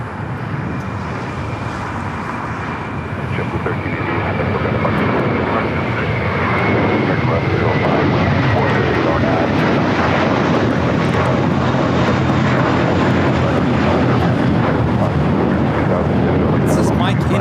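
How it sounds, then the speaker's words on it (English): A JetBlue Airbus A321 jet takes off at LAX, bound for Boston. Its engines roar loud and broad, swelling over the first few seconds and then holding a powerful, steady rumble throughout. "Next takeoff is a flight heading to Boston, flight 1388, JetBlue. It's an A321."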